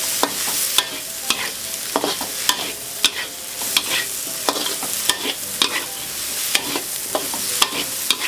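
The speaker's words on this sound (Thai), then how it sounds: "เจ้าใบโหระพา นะคะใส่ไปเลยขั้นตอนสุดท้ายนะจ๊ะ ผัดพอสลด" Pumpkin with egg and basil leaves is stir-fried in a pan, steady sizzling broken by regular scraping strokes of the spatula, close and clear with no talking.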